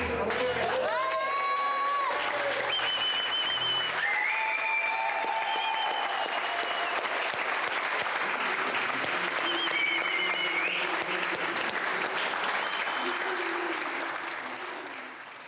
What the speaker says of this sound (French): Est-ce qu'on peut l'applaudir, là, un peu?